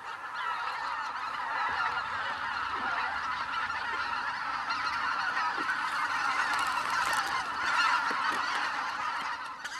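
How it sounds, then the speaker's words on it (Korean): A flock of greater white-fronted geese honking in winter, a dense continuous chorus of overlapping calls that holds steady throughout. "가장 먼저 잠자리로 날아든 것은 쇠기러기."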